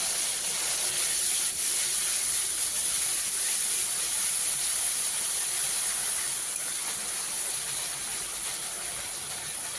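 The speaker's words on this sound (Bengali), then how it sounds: "এবার দিয়ে দিচ্ছি বড় সাইজের একটা পেঁয়াজ বাটা।" Onion paste sizzling in hot oil in a pan with whole spices—cinnamon stick, cardamom and cumin seeds—for a Bengali bean curry, a steady close hissing fry with no talk.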